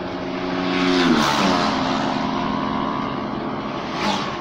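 Motorcycles ridden by English bikers roar and rattle past on an island road, a rising then fading engine drone with a second bike approaching near the end, loud and close, with no speech.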